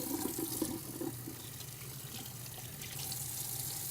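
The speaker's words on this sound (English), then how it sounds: "you'll want to wash your hands 2 times" Hands are washed under a running tap, with a steady hiss of water splashing into a sink that stays close and constant, and no one speaking.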